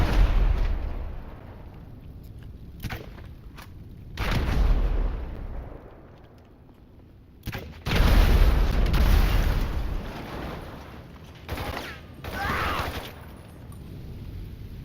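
Several heavy grenade explosions boom in GTA 5 Online during a solo Kortz Center heist shootout, loud blasts at irregular intervals with rumbling decay and sharp pops between them.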